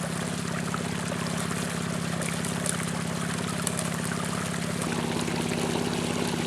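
Water flows steadily through Gold Hog Razorback sluice matting in a continuous, loud rush, with a low, constant, engine-like drone underneath and no talking.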